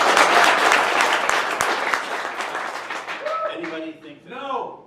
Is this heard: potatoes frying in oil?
no